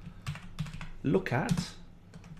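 Quick keystrokes on a computer keyboard while entering script code, a few scattered taps then a short dense burst, close and fairly soft, with a person speaking over part of it.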